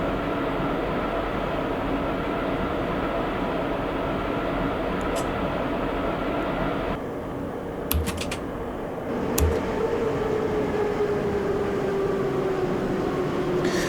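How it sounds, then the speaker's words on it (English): A metro train in the video game Metro Simulator 2 rumbles and rattles steadily as it slows toward a platform, with a faint falling whine and a few sharp clicks from the controls. "Just using the driver controller to slow the train down a bit as we approach the platform"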